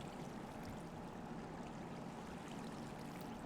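Water placed from a bucket in Minecraft, a steady, quiet rushing and trickling flow that continues evenly throughout without a break.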